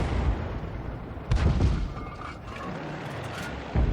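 Tank cannon fire in the World of Tanks video game, with heavy booming shots over a constant rumbling battle backdrop and a couple of louder blasts spaced a few seconds apart.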